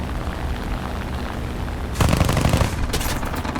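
Rapid automatic gunfire from a half-track in War Thunder, with a burst of loud, dense shots starting partway through over steady battle rumble and no talk.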